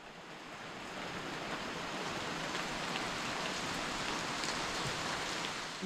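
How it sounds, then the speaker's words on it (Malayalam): Light drizzle falls around a resort swimming pool in Wayanad on a foggy morning. It makes a soft, steady hiss that rises a little at the start and then holds evenly, with no voices. "ഒരു ചാറ്റൽ മഴയും നല്ല ഫോഗൊക്കെ ഉണ്ട്."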